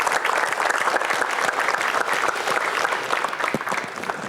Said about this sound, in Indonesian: Berikan tepuk tangan yang hangat.